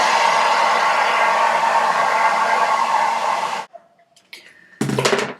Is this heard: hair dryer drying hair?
yes